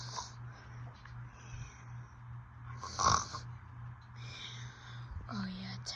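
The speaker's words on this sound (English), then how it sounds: "that big snore is pretty loud." Luna, a pet, snoring in the early morning dark, with one loud snort-like snore standing out mid-way among quieter breathy snores and soft whispering voices nearby.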